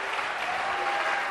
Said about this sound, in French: Et je crois que la foule peut applaudir.